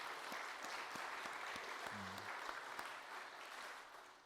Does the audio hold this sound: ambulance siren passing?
no